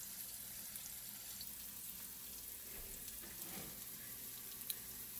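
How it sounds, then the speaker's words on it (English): Onions frying in a pan give off a steady, even sizzle at moderate level, with no talking. "And then the onions too, just let them fry until they get nice and soft."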